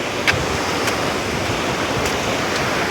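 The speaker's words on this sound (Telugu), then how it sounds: "సముద్రాల వద్ద వాటర్ ఎలా వస్తుంది చూడండి" Sea waves wash steadily ashore at a beach, a continuous broadband roar of surf with a few brighter splashes, fairly loud and unbroken, with no talk over it.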